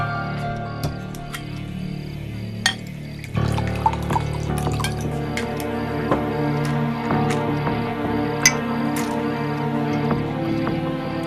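Water poured steadily in an indoor movie scene, a continuous trickling splash that starts softly and grows fuller partway through, with a faint chirping hum in the background and no talking.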